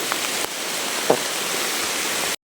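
Heavy rain pours outdoors in a dense, loud, continuous roar, with a couple of faint knocks, before cutting off abruptly to silence.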